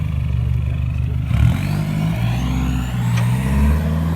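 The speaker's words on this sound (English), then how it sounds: "What's that noisy exhaust?" A car with a loud, rough exhaust rumbles and revs at a drag race, a steady heavy drone with rising engine tones and a brief surge, close and continuous.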